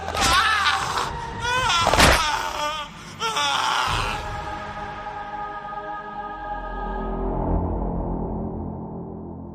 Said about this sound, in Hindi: विक्रांत की तेज चीख सुनाई देती है